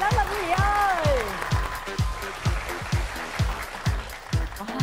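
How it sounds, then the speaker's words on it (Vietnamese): A studio audience on a television dating show applauds as two men are brought out, with steady clapping beneath a host's excited speech and a regular thumping music beat. "vỗ tay lớn lên quý vị ơi."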